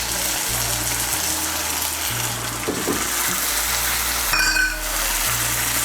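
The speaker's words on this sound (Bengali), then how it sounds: "আদা বাটা আর কাঁচা লঙ্কা বাটাটাকে মিশিয়ে নেব তেলের সঙ্গে।" Ginger and green chili paste with a splash of water sizzling in hot oil, a loud steady crackling fry with a spoon scrape midway and a sharper burst near the end, close by, no voices.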